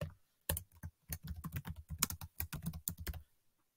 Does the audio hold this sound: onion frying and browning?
no